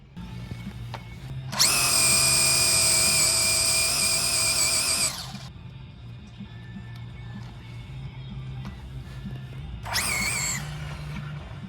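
A stock Traxxas Drag Slash RC car makes two launches, each a shrill high-pitched electric motor whine. The first is longer and lasts several seconds, and the second is a short burst. Both stand out over a quiet outdoor background.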